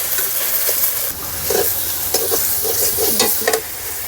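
Potatoes coated in turmeric, coriander and chilli powder are stirred and fried in a pan, giving a steady close sizzle broken by several scraping stirs of a spoon against the pan.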